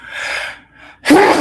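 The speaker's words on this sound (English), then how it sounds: "I gotta sneeze." A single sharp, loud human sneeze bursts out near the end, preceded by a soft breathy inhale and a short pause.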